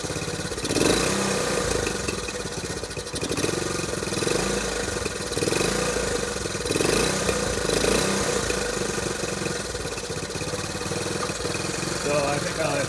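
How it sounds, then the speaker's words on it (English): A Honda CT90 Trail 90 motorcycle engine with a poorly adjusted carburetor and little fuel revs loudly and continuously, rising and falling in uneven surges with no pause. "I don't think I've got the carburetor adjusted quite right, but it does rev up now."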